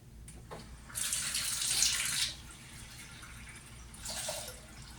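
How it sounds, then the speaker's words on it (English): Tap water pours into a pitcher in two bursts, a bright splashing gush for about a second and a half, then a shorter fill, quiet and close in a kitchen sink setting. "so now we're going to fill our pitcher with some water."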